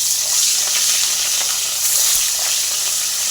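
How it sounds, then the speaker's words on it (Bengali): Spiced fish coated in salt, turmeric, chilli and mustard oil frying in a wok, giving a steady, loud, close sizzle with a brief splashy burst partway through. "তো মাছগুলোকে ভেজে নেব।"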